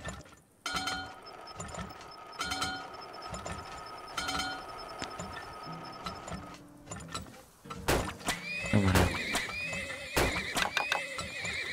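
Horses neighing and whinnying in the game Turmoil, with several loud whinnies and hoof clip-clops spread through the clip, a little mechanical clatter and a brief spoken word.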